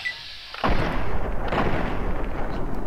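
A single loud gunshot in Fallout 3 cracks out sharply about half a second in, then a dense rumbling tail of game noise and echo carries on at steady volume with no talk.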